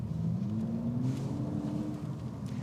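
A Toyota GR Supra with a 3-liter turbocharged six and 8-speed automatic cruises along, its engine a steady low drone with a tone that gradually climbs, heard from inside the car.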